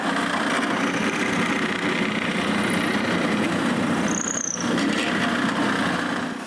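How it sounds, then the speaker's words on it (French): A hole is drilled through the center of three maple pieces stuck together with double-sided tape, a steady, close, continuous whirring grind holding level throughout and easing off at the very end. "Puis je perce un trou au centre des 3."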